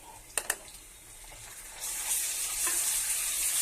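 Ginger garlic paste, powdered spices and onions are stirred in a frying pan, starting with a couple of sharp utensil clicks, then a soft sizzle that swells into a steady, louder frying hiss.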